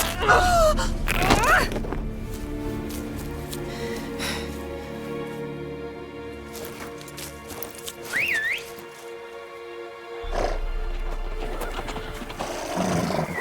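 Horses in The Witcher 3 snort and whinny, with a sharp neigh partway through, set against game ambience and a low sustained backdrop; brief voices are also heard.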